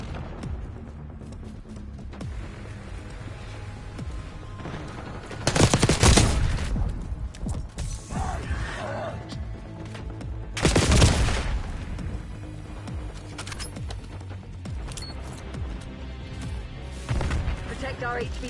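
Bursts of gunfire from Call of Duty Black Ops 6 multiplayer on the Babylon map swell over a dense, continuous battle din, with two heavier volleys standing out and game voices mixed in.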